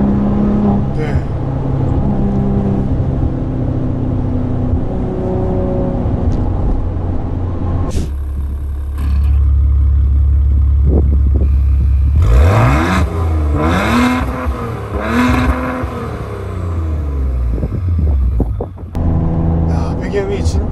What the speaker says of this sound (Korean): 스포츠 버튼을 딱 누르면 이제 배기음부터가 달라져요